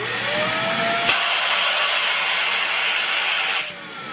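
Vacuum pump drawing down a taped-shut vacuum chamber with a balloon inside, a loud steady hissing whine that runs for a few seconds before cutting to a quieter hum.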